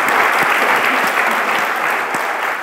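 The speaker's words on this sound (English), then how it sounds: "I'd like to give a round of applause to the RustLatam organizers for making this happen." Conference audience applause at the RustLatam 2019 programming event, a loud, dense burst of clapping from a full room that holds steady for a few seconds.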